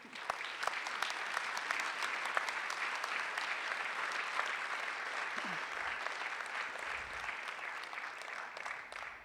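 An audience at a school board meeting applauds in a dense, sustained wash of clapping that holds steady for about nine seconds, moderately distant and without speech.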